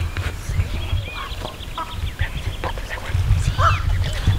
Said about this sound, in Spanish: Esa es una gaviota.